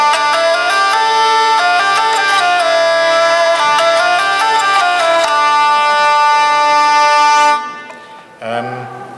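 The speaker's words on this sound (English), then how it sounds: "usually the hurdy-gurdy is a little bit like the bagpipes in that usually it has drone strings as well as melody strings." Hurdy-gurdy playing a tune, its steady drone strings humming beneath a shifting melody line, loud and close; the playing stops near the end, followed by a short, different sound.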